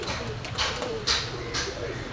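Pakistani high flyer pigeons at a market stall give a few soft, low coos in a noisy setting, close but faint under background hiss and murmur.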